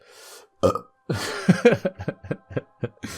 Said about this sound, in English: Really sincere moment interrupted by a burp.